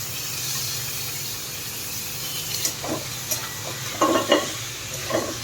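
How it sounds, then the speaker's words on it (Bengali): Marinated chicken frying in a pan over a low-to-medium flame with fried garlic and onion, giving a steady sizzle with a few scraping stirs of a spoon, the stirring growing more frequent toward the end. "চিকেনটা দিয়ে ভালো করে মিশিয়ে নেব"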